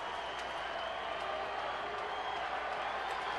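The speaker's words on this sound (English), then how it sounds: "Listen to the crowd." A baseball stadium crowd at a Giants–Diamondbacks game in Arizona makes a steady, distant roar of cheering and applause, with no clear peaks.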